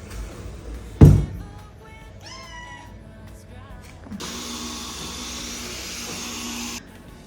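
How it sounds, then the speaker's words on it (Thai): Household vacuum cleaner sucking up shed cat hair indoors, a steady broadband whir running for several seconds after a sharp knock, with faint child-like cries and tonal squeals earlier and no talk. "ดูดฝุ่นเสร็จเรียบร้อยค่ะเนี่ย"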